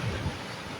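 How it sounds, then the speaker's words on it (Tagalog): A dense, continuous roar of heavy rain at the Marikina riverbank, steady and loud with no pauses. "malakas po ang ulan dito ngayon"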